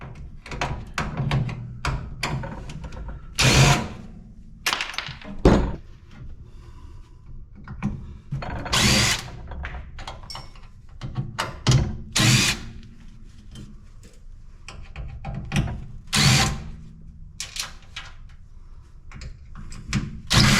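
A power drill removes screws from the bottom of an appliance in short, loud whirring bursts spaced a few seconds apart, with clunks and handling noise between them.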